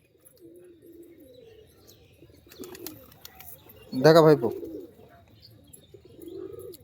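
Giribaz pigeons cooing at a house, soft low coos throughout with a louder, close burst of cooing midway, while someone talks intermittently nearby.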